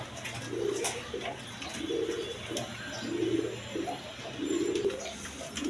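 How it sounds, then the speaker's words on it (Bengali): A pair of pigeons, a white Bombay hen and a yellow Lahori cock, coo in low repeated rolling phrases, four or five calls at an even pace, fairly close. "এইখানে এক পেয়ার কবুতর আছে"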